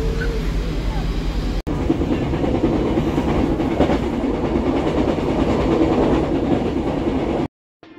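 An airport train from Yogyakarta rumbles steadily along the rails with a continuous clattering roar, loud and close, ending abruptly in near silence.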